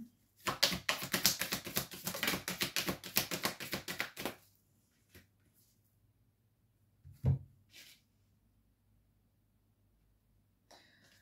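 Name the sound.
tarot cards being shuffled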